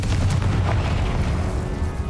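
A Confringo fire spell goes off in Hogwarts Legacy, giving one loud, close, booming blast with a low rumble that fades over about two seconds, with no talk over it.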